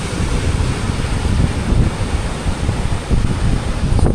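Waves break and wash ashore at the Santo Tomas River mouth in Zambales, where erosion is eating into the coast. The surf is a steady, loud roar with heavy wind buffeting the microphone throughout.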